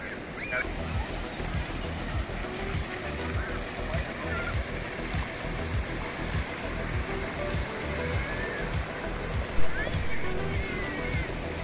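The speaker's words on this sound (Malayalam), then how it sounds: "കാറിൻ്റെ എൻജിൻ്റെ ശബ്ദമില്ല, തിരമാലകളുടെ രംഭങ്ങൾ മാത്രം." Sea waves wash continuously onto Muzhappilangad drive-in beach, a steady broad surf roar with a brief splash near the end and indistinct voices faintly underneath.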